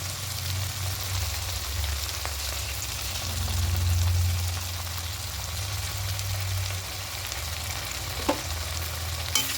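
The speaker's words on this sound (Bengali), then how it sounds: "পেঁয়াজের টমেটোটা অনেকটা নরম হয়ে গেছে এটা এখানে আদা রসুনের পেস্টটা দিয়ে দেবো" Softened onion and tomato frying in a pan with ginger garlic paste for a fish curry, a steady close hiss and sizzle with a couple of faint stirring clicks near the end, no talk.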